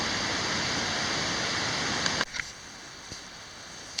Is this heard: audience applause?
no